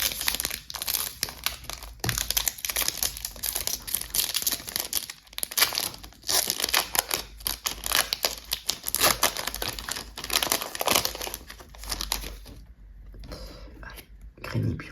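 Pokémon card booster packs being opened up close, their foil wrappers crinkling and tearing in a dense, continuous rustle that stops near the end.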